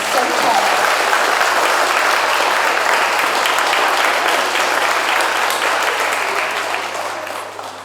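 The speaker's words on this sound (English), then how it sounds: "So if you could give Amelia a really big clap for going first." Sustained, loud applause from an audience at a school poetry reading finals, dense clapping that holds steady and then slowly fades near the end.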